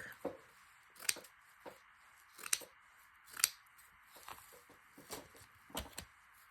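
Scissors snip through a strip of black paper in several short, crisp cuts spaced about a second apart, close and fairly quiet, with no talking.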